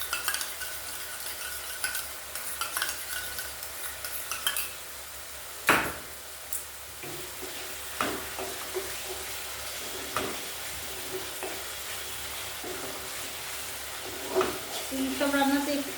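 Yogurt is whisked in a bowl, with soft continuous stirring and scraping close by and occasional sharper clinks of utensil against the bowl, including one louder knock, with no talking.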